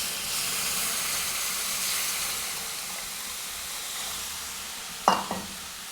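Semolina that has just been fried sizzles in a pan as milk is poured onto it, giving a steady soft hiss with a short clunk near the end.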